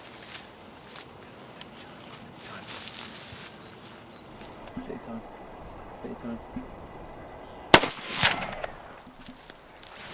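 A single sharp rifle shot rings out in open countryside during a Chinese water deer hunt, fired from shooting sticks, followed by faint rustling and distant murmurs.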